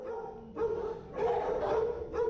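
Several dogs in an animal shelter kennel bark in bursts, loud and echoing in a confined space, with short gaps between the volleys.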